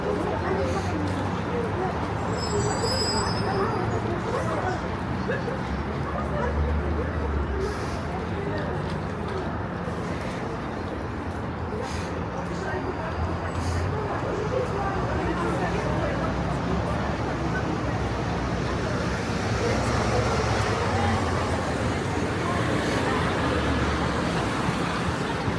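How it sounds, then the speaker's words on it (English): Dense London street traffic outside Victoria Station rolls past steadily, with a tour bus passing in the constant roar of engines and tyres, loud and close, with voices of passers-by murmuring throughout. "That's a tour bus."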